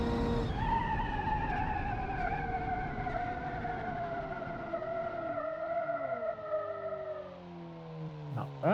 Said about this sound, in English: All right, brake test.